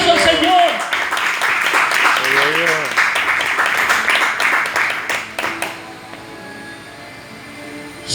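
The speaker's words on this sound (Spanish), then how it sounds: "Dale un aplauso." A church congregation breaks into applause, a dense wash of clapping that fills the first five seconds and then fades out, with a voice carrying over it.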